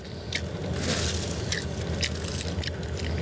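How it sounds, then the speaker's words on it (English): Wet, squishy chewing with a full mouth, close and continuous, with small crunches and smacking bursts throughout and no talk. "You can't even see me chewing with my mouth full."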